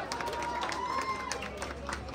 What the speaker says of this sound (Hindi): हमारे सैफ अली खान और करीना के लिए जोरदार तालियां प्लीज।